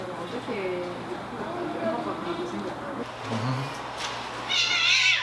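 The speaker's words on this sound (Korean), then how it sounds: "사람들에게 길들여진 고양이는 길고양이와 다르게 사람을 피하지 않습니다." Abandoned domestic cat at an animal rescue site, giving a couple of brief meows, the clearest one near the end, mixed in with ongoing human talk and faint background noise.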